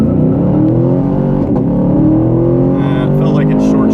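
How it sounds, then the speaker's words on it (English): A 2016 Camaro SS, held in drive, is revved and held at launch RPM before a 0-60 run, its engine note loud, steady and close, droning throughout with a slight upward swell. "Bring it up to the RPM you want to leave at"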